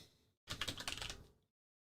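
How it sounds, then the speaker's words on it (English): A brief rapid burst of typing on a computer keyboard, close and clear, lasting about a second after a moment of quiet. "What are you typing?"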